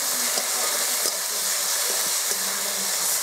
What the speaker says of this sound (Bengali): এইবার ভালো করে মশলাটা কষে নেব।